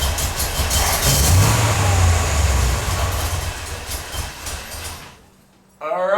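A Corvette engine idling roughly runs steadily with rumbling broadband noise, then cuts out briefly near the end before starting up again.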